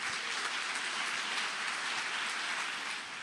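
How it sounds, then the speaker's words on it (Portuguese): Applause from a church congregation, a dense, steady wash of clapping that holds evenly throughout without breaks, with no talk over it. "Aplauda Jesus essa noite."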